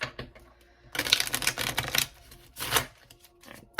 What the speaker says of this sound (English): can I get a good shuffle